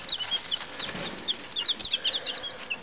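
Small bantam chickens cluck and peep in a quick, irregular stream of soft high chirps, close by and continuous, with no talking.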